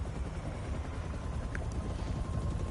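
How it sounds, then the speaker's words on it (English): A helicopter lifts off in the video game Marvel's Spider-Man 2, its steady rotor drone and whine holding constant and fairly loud throughout, with no voices over it. "A helicopter takes off, carrying the glass-walled cell toward the raft prison."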